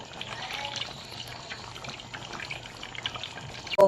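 Pork caldereta ingredients sautéing in a pan, a steady bubbling sizzle with light stirring, ending in a brief louder clatter.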